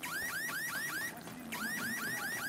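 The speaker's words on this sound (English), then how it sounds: "That alarm noise is just piercing." A piercing electronic alarm whoops in rapid repeating sweeps, loud and close, pausing briefly midway before resuming the same pattern, with no voices.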